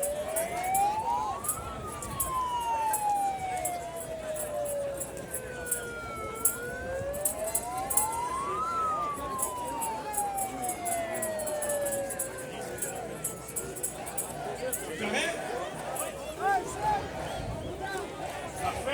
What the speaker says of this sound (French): Laissez place à l'ambulance, s'il vous plaît.